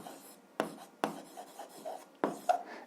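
A pen writes on paper, with soft scratchy strokes punctuated by several sharp taps and quick scribbles, close and quiet.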